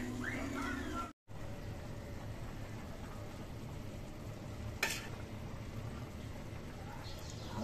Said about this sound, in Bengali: গুঁড়া পুঁটি দা রান্না করছি